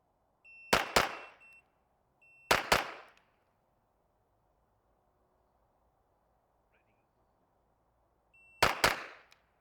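Two pistol shots fired in quick succession at a practice target, repeated in three separate pairs, each pair loud, sharp and close with a short ringing decay, and quiet pauses between the sets.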